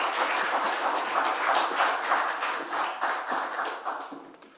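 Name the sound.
congregation applause welcoming pastor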